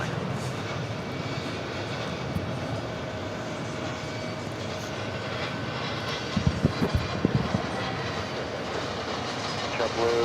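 A Condor airliner taxiing toward runway 22 right at JFK airport gives off a steady, distant jet engine roar. A broadband rumble holds throughout, with a few brief low thumps near the end.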